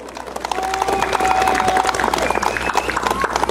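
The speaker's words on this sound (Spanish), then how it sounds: "¡Fuertes los aplausos!" Crowd applause at a village festival honoring the patron Virgin of Guadalupe in Colombia de Guadalupe, a moderate wash of clapping with some cheering and voices mixed in.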